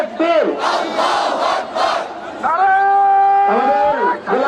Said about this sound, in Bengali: মিছিল আসতেছে, আমরা স্লোগান দেব, নারায়ে তাকবীর, নারায়ে তাকবীর